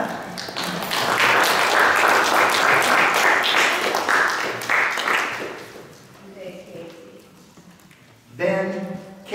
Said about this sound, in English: Yeah, we can clap for that.